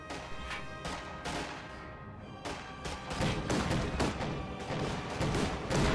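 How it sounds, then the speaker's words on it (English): Gunfire and explosions crackle through a World War II strategy game battle with a Panzer IV and infantry, a dense, continuous din of shots and thuds with bursts growing heavier toward the end. "They're shooting at us."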